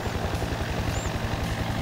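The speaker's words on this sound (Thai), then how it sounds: "เฮลิคอปเตอร์ฉีดยาวอ่ะคุณผู้ชม โอ้โหมันล้ำจัด ล้ำจริง" A crop-spraying helicopter in the Farming Simulator video game, working over a fruit orchard, gives a rapid, even rotor thump under a steady engine drone, loud and continuous.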